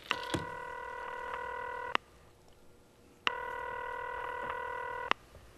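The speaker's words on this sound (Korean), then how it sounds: "제가 전화 한번 해보겠습니다" Keypad tones from a telephone being dialed, two long steady beeps separated by a short pause, each starting and ending with a sharp click, loud and close, with no talk.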